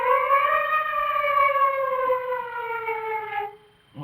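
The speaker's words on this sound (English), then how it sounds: "The siren, he'll think it's the police." A siren sound effect from a machine rigged to scare off burglars, a loud wailing tone that holds steady and then slowly drops in pitch before cutting off, alone with no talking.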